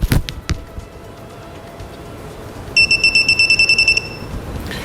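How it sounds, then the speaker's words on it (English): A torque wrench set to 23 foot-pounds beeping as it reaches set torque while tightening a fastener, a rapid run of about a dozen short, loud, high-pitched beeps after a couple of metallic clicks, no talking. "You can see my torque wrench starts to beep right now"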